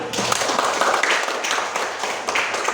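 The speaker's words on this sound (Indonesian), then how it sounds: "Kasih tepuk tangan untuk Ilham." Classroom audience applauding a student, a steady patter of many hands clapping throughout, fairly loud and close.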